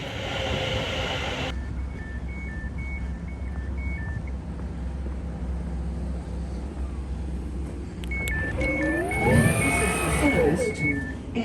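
Railway station platform with a train present, steady low rumble throughout, repeated two-tone electronic beeps near the start and again later, then a rising screech of moving carriages toward the end.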